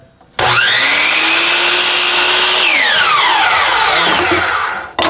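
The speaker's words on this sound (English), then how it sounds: "Be real careful with these saws." A power saw cuts a 45-degree angle through wood for a candle holder, a loud whining motor that spins up sharply, holds steady under load for about two seconds, then winds down gradually.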